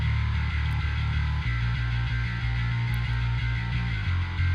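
Heavy metal bass guitar through the Neural DSP Parallax multi-band bass plugin at its default setting, a thick, loud, driven low-end riff with gritty upper distortion, playing continuously with no talking.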